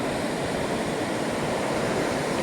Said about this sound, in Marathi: किती सुंदर समुद्र किनारा आहे संध्याकाळच्या वेळी